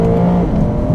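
A 2022 Lexus IS 500 V8 sedan engine roars loudly and steadily at high revs toward redline, a deep continuous growl close up.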